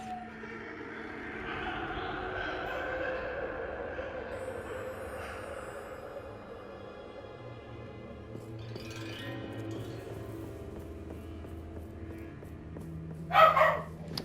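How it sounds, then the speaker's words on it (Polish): A pet dog in the room gives a short, sharp bark near the end, loud against the quieter game sounds that drone underneath the rest of the time. "akurat w tym odcinku musi mi szczekać"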